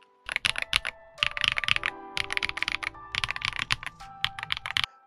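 Rapid typing on a Xinmeng M87 Pro TKL keyboard with Gateron EF Grayish switches and DSA PBT keycaps, dense bursts of close, crisp keystrokes in several runs separated by short pauses, no talking.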